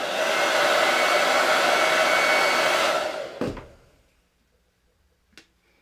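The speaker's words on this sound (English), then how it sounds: "Let me grab my hairdryer." Hair dryer blowing steadily and loudly while drying chalk paint, running for about three seconds before switching off and winding down, followed by near silence and a brief faint click.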